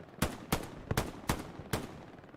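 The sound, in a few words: gunfire in the video game Hell Let Loose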